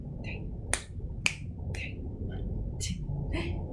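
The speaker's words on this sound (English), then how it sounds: "that is an activity I do called cannon clapping." Sharp, isolated hand claps in a canon clapping activity, a handful of crisp hits spaced at uneven intervals over a faint low background hum, fairly quiet overall.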